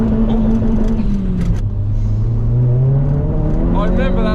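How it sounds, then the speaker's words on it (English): A Mk1 Ford Focus RS rally-style car runs with its engine droning and shifting pitch as it pulls away, its turbo adding a rising whine. A voice is heard over the engine noise. "I remember that turbo sound."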